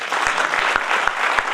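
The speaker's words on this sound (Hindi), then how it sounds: "जोरदार ताली होगी।" An auditorium audience at a motivational training event claps loudly, a dense and steady wash of applause that fills the room from start to finish, with a few louder claps standing out.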